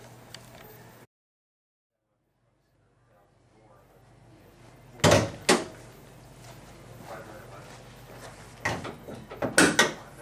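Hood of a 2008 Chevy Malibu being opened, heard as a few sharp mechanical clunks and latch knocks after a quiet gap, with handling rattles and shuffling between them at close range.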